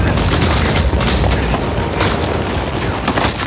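Gunfire from enemies in the video game Uncharted 4, a dense, continuous burst of shots and booms filling the whole stretch without a break.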